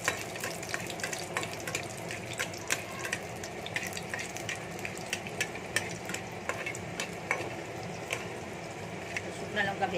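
Dried red chillies frying in oil for fenugreek greens, a steady close sizzle with small crackling pops throughout, a faint voice underneath.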